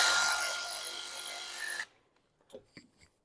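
A wrench loosens and removes a Toyota Prius front brake caliper bolt: a loud, close, rasping mechanical burst for nearly two seconds, then abrupt quiet broken by a few light metallic clicks.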